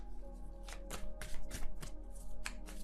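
Tarot cards are shuffled by hand in a run of crisp riffling bursts, several quick flutters rising and falling close up, with no talking.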